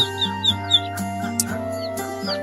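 Young bantam chicks clucking with quick high peeps repeating every half second or so, close by, over a steady electrical hum.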